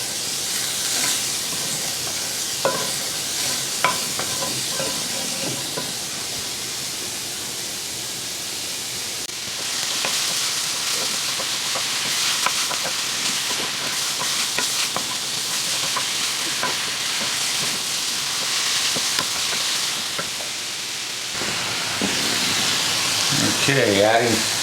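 Venison and mushrooms fry in a pan with a steady hiss and sizzle, stirred now and then with scraping and clacking, the sizzle swelling louder partway through and continuing without talk.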